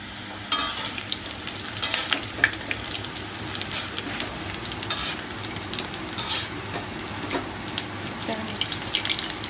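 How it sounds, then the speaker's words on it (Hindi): Gram flour pakoras fry in oil over a low flame, a steady close crackling sizzle with scattered sharp pops and bubbling throughout, alone without voices. "ऑयल में घुमा के अच्छे से फ्राई कर दें।"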